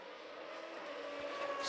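Formula V8 3.5 race cars at Jerez sound as a sustained, fairly distant engine whine on track, steady and slightly rising over a short stretch with no talk.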